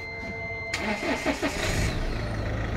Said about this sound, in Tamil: வண்டியை ஸ்டார்ட் பண்ண.